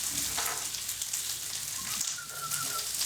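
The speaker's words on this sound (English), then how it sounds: "Pan should be hot now. You know, oil. I'm going to stick me onions in." Onions fry in hot oil in a pan, giving a soft, steady crackling sizzle at low level with a faint background tone.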